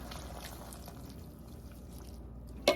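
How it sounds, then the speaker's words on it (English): Broth pours into a pot of oxtail stew, a soft, steady trickling and splashing of liquid that continues throughout at low volume, ending with a brief sharp knock. "we'll go ahead and pour the rest of your broth"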